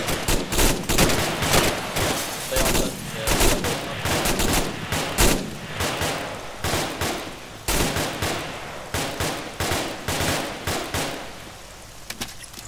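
Sustained automatic and single-shot gunfire from an Arma 3 military combat game, rapid overlapping bursts and cracks continuing throughout, loud and dense with some shots closer than others.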